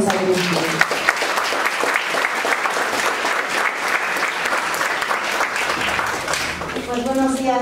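An audience at an academic human rights lecture gives sustained applause to welcome a speaker, loud dense clapping lasting several seconds, with a voice starting to speak over the tail end.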